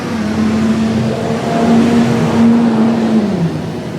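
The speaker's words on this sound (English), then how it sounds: "Boy, a lot of trucks and buses coming by today." A large vehicle passes by on a road near a suburban yard, a loud droning engine hum that holds steady and then drops in pitch as it moves away.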